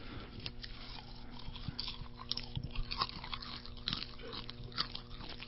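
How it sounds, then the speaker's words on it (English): A person chewing popcorn close up, with steady crunchy bites and mouth noises over a constant low hum, with no talk. "How about chewing some popcorn? I can do that."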